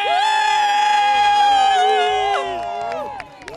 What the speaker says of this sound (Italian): Quindi facciamoci un applauso!